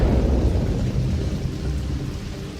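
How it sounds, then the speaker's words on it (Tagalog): Heavy rain pours steadily and loudly, with deep rolling thunder rumbling throughout, a dense continuous roar with no voices. "Parang wala nang balak tumila tong ulan Palakas pa ng palakas."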